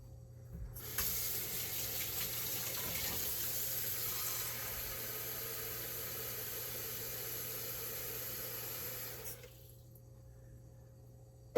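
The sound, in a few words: water poured into a blender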